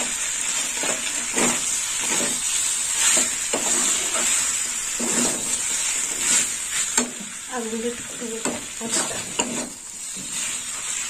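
Ground coconut is sautéed and stirred in a pan for a snake gourd curry with potatoes, giving a steady close sizzle broken by repeated scraping stir strokes, with a voice talking over parts of it.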